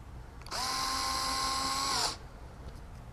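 A power drill drives screws to mount a Eufy Familock S3 smart lock, giving one steady, high whirring burst of about a second and a half, close up and alone in a quiet room.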